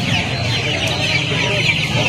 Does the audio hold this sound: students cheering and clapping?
no